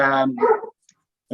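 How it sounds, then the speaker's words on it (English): A dog barking in the background, two or three close, fairly loud barks in quick succession with a short gap before another starts, no speech over them. "that's the dog in the background"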